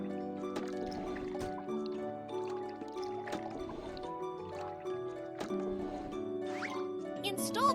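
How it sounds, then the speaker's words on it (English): Cartoon liquid pouring into a car tank in the Little Panda car repair game, soft gurgling trickle under a bright looping game melody, with a short sparkly chime near the end. "Pour liquid into the correct tank."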